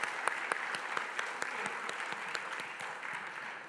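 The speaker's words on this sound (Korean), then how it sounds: "우리 서로를 향해서 우리 축복의 박수, 격려의 박수 할까요?" A church congregation at a Saturday dawn prayer service claps together in blessing and encouragement, a steady, even wash of applause with occasional louder individual claps.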